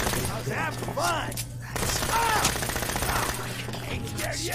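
Rapid bursts of gunfire in Fallout 4 crackle through a firefight, layered with music and voices talking over the shots.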